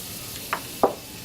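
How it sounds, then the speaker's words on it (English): Tomatoes sautéing with butter in a pan for lobster américaine, a faint sizzle broken by a few short utensil scrapes and clinks. "we're going to saute all this stuff together. We're going to add our butter into this pan."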